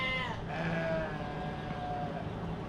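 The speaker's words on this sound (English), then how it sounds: "The sheep are going crazy back there because they hear me talking and they're hungry." Hungry sheep bleat from somewhere behind, their harmonic cries overlapping in a steady, fairly loud chorus over a continuous noisy background with no talking.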